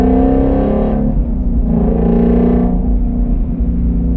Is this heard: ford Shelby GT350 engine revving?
yes